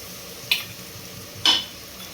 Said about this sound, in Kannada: ನೆಕ್ಸ್ಟು ಶುಂಠಿ ಬೆಳ್ಳುಳ್ಳಿ ಪೇಸ್ಟ್ನ ನಾನು ಆ್ಯಡ್ ಮಾಡ್ಕೊತೀನಿ.